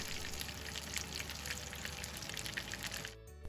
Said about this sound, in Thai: พอเริ่มร้อนก็ใส่ไก่ลงไปทอดเลยค่ะ